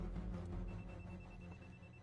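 A telephone rings faintly and steadily beneath a dense background of other noise, continuous across the short stretch.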